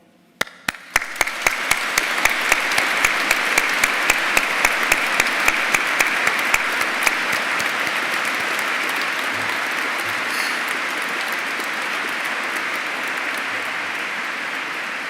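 Audience applause at a university graduation ceremony in Canterbury Cathedral starts with a few scattered claps, then swells into a steady, reverberant wash of clapping that holds for the rest of the clip.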